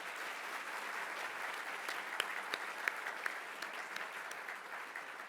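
Audience applause at a conference session, a steady wash of many hands clapping throughout, with a few sharper individual claps standing out, no voices on top.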